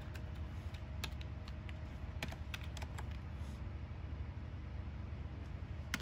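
Typing on a Logitech K480 multi-device Bluetooth keyboard: quiet, irregular key clicks tapping out a short search at close range over a soft background hum.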